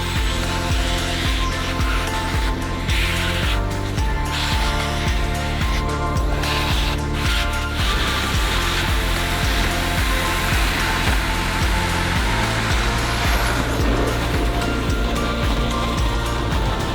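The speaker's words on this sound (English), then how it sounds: "the first thing we're going to do is vacuum all the debris off of it" A vacuum clears debris off a Lincoln Continental found in a barn, a loud, steady rushing roar with shifting rumbly tones as the nozzle moves over the car.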